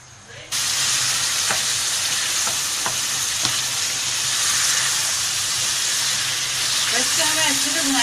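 Mutton with ridge gourd fries hard in a pot, a loud steady sizzle and steam hiss that starts abruptly, with a few clinks of stirring and a faint voice near the end.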